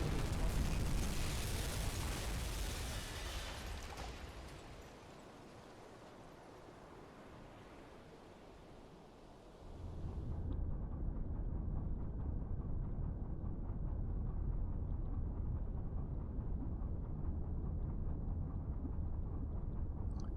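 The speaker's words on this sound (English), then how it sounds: "we just got a torpedo hit" A torpedo striking a ship in the U-boat game Uboat, with a loud, rumbling explosion and roar at the start that fades, then a lower steady wash like sea and wind that continues to the end.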